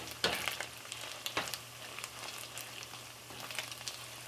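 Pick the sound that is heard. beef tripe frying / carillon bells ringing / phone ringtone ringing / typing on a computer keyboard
beef tripe frying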